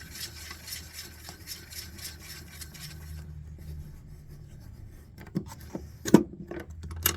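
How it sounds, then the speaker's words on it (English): A hand case trimmer cuts down a brass cartridge case for reloading, giving a close, steady rasping scrape for about three seconds, then a few sharp clicks and taps with no talking. "Put our case in, the one that needed trim. Give it a couple turns."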